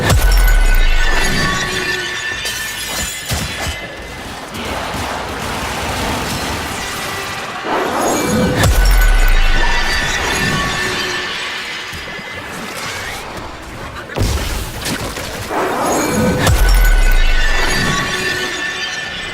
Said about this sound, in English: cause an explosion and causing glass flying outward and dealing a great deal of damage